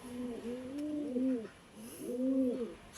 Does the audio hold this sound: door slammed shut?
no